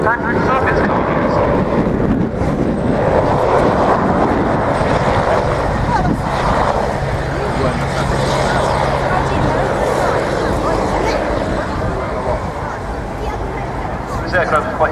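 A helicopter flying at an airshow, a loud broad roar of rotor and engine noise with wind buffeting, heard under an announcer talking over a public address system throughout.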